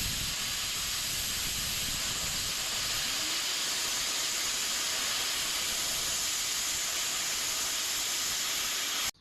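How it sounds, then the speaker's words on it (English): A YesWelder CUT-65DS plasma cutter gouging slag and overhang off a metal edge at an angle gives a steady, loud, continuous hiss of rushing air and arc, unbroken for about nine seconds and then cut off abruptly. "you can actually use the gouging feature and cut this at an angle"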